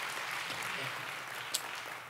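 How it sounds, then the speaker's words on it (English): A church congregation claps in praise during a revival sermon, a broad, sustained roar of many hands with faint voices mixed in. "give the Lord a great big praise clap"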